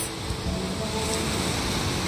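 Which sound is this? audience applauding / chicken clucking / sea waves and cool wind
sea waves and cool wind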